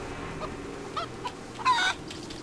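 Chicken in the Mini Ninjas video game clucking in a few short bursts, the loudest near the end, over a quiet game background.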